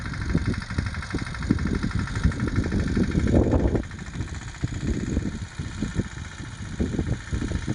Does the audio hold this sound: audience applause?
no